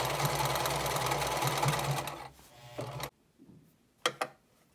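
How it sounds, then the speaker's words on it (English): Sewing machine running steadily as it stitches through zipper tape, a dense mechanical whir that slows and stops, followed by a few light clicks and knocks. "Remember, you can sew through this tape. So you're going to continue in a straight line."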